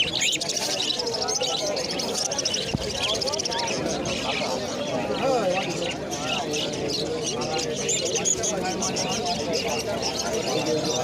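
Small caged birds at an outdoor bird market, among them budgerigars, conures and Java sparrows, chirp and tweet continuously in a dense chorus under steady market talk.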